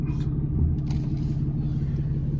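A Cummins diesel pickup truck rumbles steadily and close, a low continuous engine drone with no voices over it.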